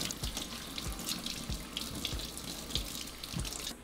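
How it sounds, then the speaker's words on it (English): Tap water running over tomatillos in a sink, a steady close splashing rush with soft low thumps as the fruit is handled, no talking. "Wash it until you no longer feel the slime on the tomatillo."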